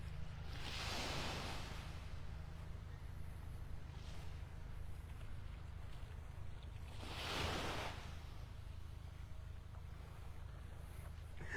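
Waves wash onto Vanderbilt Beach in North Naples, Florida, under a constant low rumble of surf. Two louder swashes break about six seconds apart, and no one speaks.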